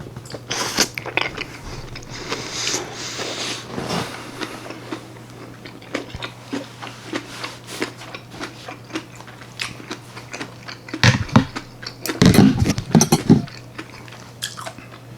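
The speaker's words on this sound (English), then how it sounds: "the texture and the spiciness or crunchiness of the kimchi" Crunchy kimchi with tofu being bitten and chewed close to the mic, with wet crunching and smacking that build into louder, dense crunch bursts near the end, and no talking.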